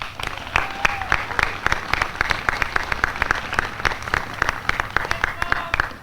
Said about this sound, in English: Graduates, how about a round of applause for your families?